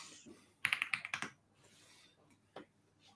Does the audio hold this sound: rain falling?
no